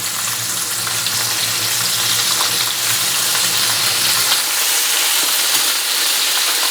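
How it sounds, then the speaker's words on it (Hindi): Chicken tenders deep-fry in hot oil, giving a loud, dense, steady bubbling sizzle that runs unbroken up close with no voices over it. "फ्रेंड्स, यहाँ पे हमारे चिकन को फ्राई होते हुए करीब 2 मिनट हो गए हैं।"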